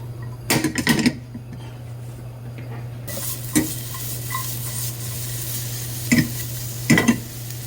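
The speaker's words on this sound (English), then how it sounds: "some onions in there. We're gonna caramelize them." Onions caramelize in a little oil for a Kenyan mukimo, a steady low sizzle with several sharp scraping stirs of a utensil against the pan, close and alone.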